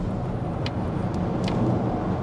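A Polestar 3 Long Range Dual Motor electric car accelerating from about 50 to overtake, heard from inside as a steady, fairly loud low road and motor rumble with faint high whines, no voices.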